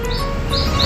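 Pet pigeons call in a few short, bright chirping notes over a steady background hum, close and fairly loud.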